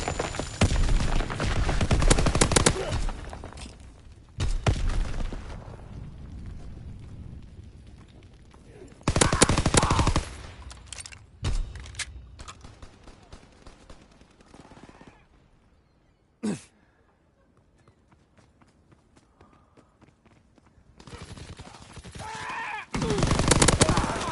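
Gunfire in Call of Duty WW2 multiplayer: loud automatic bursts and single shots in bunches, separated by quieter stretches with a faint talking voice and a lone crack before the firing returns at the end.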